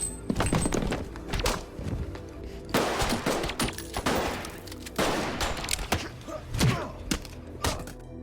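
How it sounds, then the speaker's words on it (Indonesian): A gunfire shootout in an action film about a British secret agent fighting Russian mafia: rapid bursts of shots and heavy thuds crack out in dense volleys, loud and close, with brief pauses between. "terjadilah tembak-tembakan beserta kejar-kejaran"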